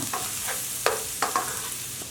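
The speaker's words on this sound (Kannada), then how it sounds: "ಒಂದು ಇಂಚಿನಷ್ಟು ಶುಂಠಿನ ಸಣ್ಣದಾಗಿ ಹೆಚ್ಕೊಂಡಿರೋದು ಒಂದು ಗಡ್ಡೆ ಬೆಳ್ಳುಳ್ಳಿ ಸಣ್ಣದಾಗಿ ಹೆಚ್ಕೊಂಡಿರೋದು ಸ್ವಲ್ಪ ಫ್ರೈ ಮಾಡ್ಕೊಳ್ಳೋಣ" Finely chopped ginger and garlic fry in a pan with a close, soft sizzle, punctuated by several quick stirring scrapes.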